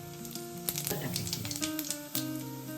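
Chili powder and cumin hit hot oil in a pan with a steady, close sizzle, broken by a few sharper crackles and pops, with no talking.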